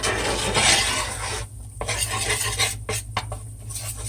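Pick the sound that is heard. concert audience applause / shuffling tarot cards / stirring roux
stirring roux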